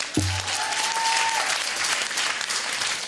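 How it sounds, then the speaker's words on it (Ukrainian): Loud, sustained audience applause from a Ukrainian comedy club crowd, dense and steady throughout, with a brief low tone near the start. "Ласкаво вітаємо і запрошуємо усіх до Comedy Club Україна. Оплески вам."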